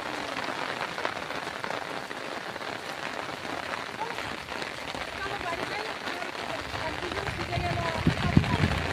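Heavy pouring rain during a night out fishing by a canal in the Sundarbans, a dense steady hiss of drops on surfaces throughout, with a few louder knocks near the end.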